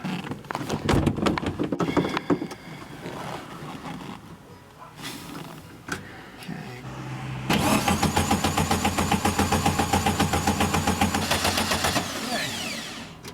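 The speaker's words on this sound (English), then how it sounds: "This is the first startup in over 20 years." An old Volkswagen car engine, not run in over 20 years, cranks and stutters, then catches and settles into a steady, loud idle with a rhythmic chug, close by.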